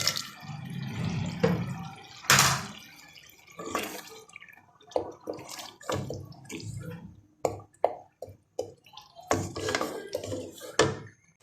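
A glass of water goes into a pot of potatoes and spices for white chickpea curry, with close, intermittent splashes, drips and clatters separated by short quiet gaps and no talking.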